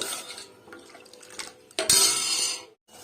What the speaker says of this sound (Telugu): చూసారా, మరగనైతే మరుగుతున్నాయి అన్నమాట.